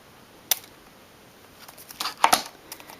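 Scissors snipping off a small protruding piece of wrapping paper on a gift: one sharp cut, then a cluster of quick crisp snips and paper rustles close by.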